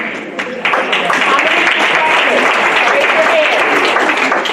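An audience at a youth session claps in a dense, steady burst of applause that swells after a brief softer start and holds loud throughout.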